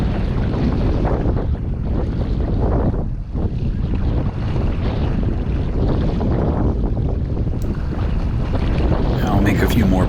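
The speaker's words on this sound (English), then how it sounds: "in this case we're just enjoying a sail across the wind." A sailing kayak cuts across the wind on open water, and heavy wind buffeting on the microphone roars continuously over the rush and slap of water against the hull.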